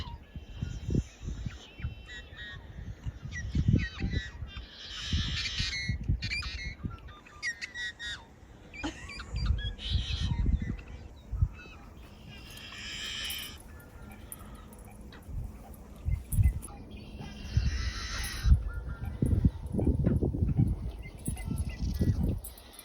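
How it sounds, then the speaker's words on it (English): Steady run of unfamiliar bird calls and chirps outdoors at an RV stop, with repeated bursts of varied song overlapping through the clip, moderately loud against rustling background noise. "Just like non-stop bird sounds and calls that we haven't heard before."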